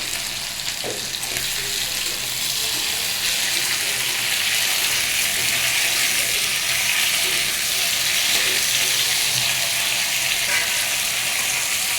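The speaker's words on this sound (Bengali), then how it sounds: "আলুটা দিয়ে একটু ভালো করে ভেজে নেব। এটাকে একটু লবণ দিয়ে ভাজবো।" Potato pieces frying with salt in a pan, a loud, steady sizzle that holds evenly throughout with faint stirring and clatter underneath.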